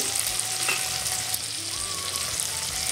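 Chopped tomatoes and cumin paste fry in a hot pan, a loud, dense, continuous sizzle with stirring scrapes throughout.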